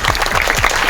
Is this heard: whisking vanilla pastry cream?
no